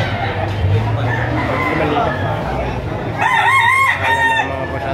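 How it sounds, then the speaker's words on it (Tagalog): A rooster crows loudly over the noisy murmur of a crowded chicken auction in Lipa, with people talking throughout and other fowl clucking in the background. "Napakaganda ng mga manok na ito."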